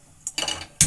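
A frying pan is set down on a kitchen stove while cooking egg sambar: a faint knock, then a brief rustle of metal, and a sharp, close metallic clank as the pan lands, with no talking.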